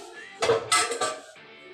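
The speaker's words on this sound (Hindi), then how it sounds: "अब मैं इसे डिश आउट कर रही हूँ।" Creamy chicken Alfredo pasta being served onto a dish, with a few close clinks and scrapes of a utensil against the plate over a short span, faint background hum between.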